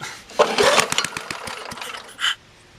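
A Craftsman lawn mower engine with a carburetor problem sputters and chugs unevenly as it tries to run, giving loud close bursts with irregular firing pulses before it dies out, followed by a brief final puff.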